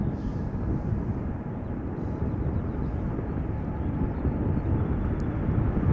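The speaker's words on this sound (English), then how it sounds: "That Dreamliner is pulling up already." A KLM Boeing 787-9 Dreamliner, eight years old, taxis at Schiphol Airport with a steady, moderately loud jet rumble that holds evenly through the moment, with no talk over it.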